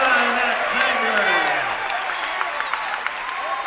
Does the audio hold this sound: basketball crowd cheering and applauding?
yes